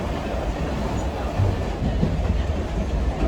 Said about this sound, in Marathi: ट्रेन गाडी बघते ट्रेन गाडी